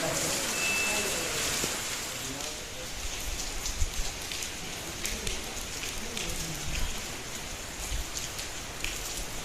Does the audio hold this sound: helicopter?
no